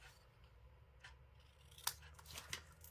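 Scissors snipping through paper for a handmade mini album, a few crisp close cuts in the second half over a quiet hum, with no talking.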